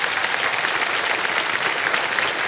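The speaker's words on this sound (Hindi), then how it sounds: "एक बार जोरदार तालियां बज जाए मिथिलेश जी के लिए" A studio audience on a quiz show bursts into loud, sustained applause, dense even clapping throughout with no voices over it.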